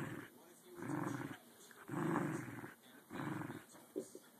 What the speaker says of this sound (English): It's a big mean dog.